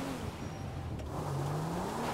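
Engine note of a car in Grand Theft Auto V during an online race, a steady loud drone with a pitch that sags and then climbs again as it revs, continuous throughout with no talking.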